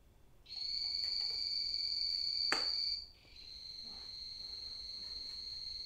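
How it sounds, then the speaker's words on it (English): High, piercing frog trills drone continuously, one call stopping and another starting right after, with a brief sharp click in between. "It's so cute listening to those frogs chirp"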